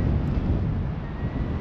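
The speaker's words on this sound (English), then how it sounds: "It's a bit windy so." Strong wind buffeting the microphone on the beach at Blackpool, a steady low rumbling roar with no voices.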